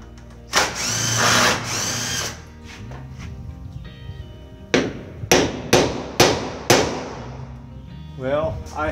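Hammer blows on a barndominium front door frame under repair: a couple of longer scraping or prying sounds, then a rapid run of five sharp, loud, close strikes, with a brief voice near the end.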